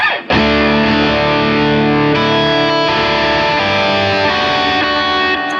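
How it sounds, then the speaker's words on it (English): An electric guitar plays through a Minotaur overdrive effect on a Line 6 POD Go, with an Essex A-30 (Vox AC30-style) amp model. One loud, distorted chord is struck and rings out thick and sustained, with a brief restrike near the start. "Let's turn up the Minotaur, see what happens."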